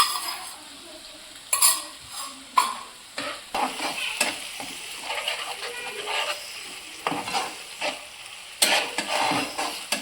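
Curd is stirred into broccoli sabzi in a pan, with gentle sizzling under repeated spoon scrapes and occasional clinks, close by and in irregular bursts.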